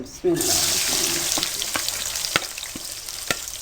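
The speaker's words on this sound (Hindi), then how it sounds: "अब सबसे पहले आप तकरीबन पौना कप ऑयल गर्म कर लें और उसमें प्याज को फ्राई करें।" Onions hit about three-quarters of a cup of hot oil for aloo karela fry, bursting into a loud sizzle that settles into a steady crackle, with several sharp clicks of stirring.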